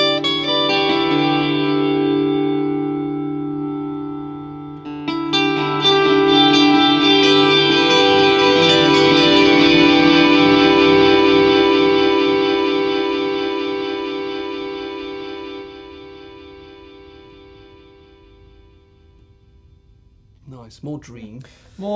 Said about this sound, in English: Verb has a reverb applied to the tails of the delay.